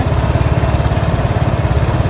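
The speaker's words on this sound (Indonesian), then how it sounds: "Nah, ini untuk suara dari mesinnya itu sendiri." The engine of a 2022 Vespa Primavera S i-Get scooter idles up close, a loud, steady, rapidly pulsing low putter that continues evenly with no one speaking.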